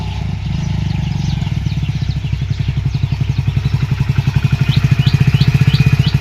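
A tractor engine chugs close by in a steady, rapid, regular rhythm that grows slightly louder and stronger as it arrives, with no talk over it.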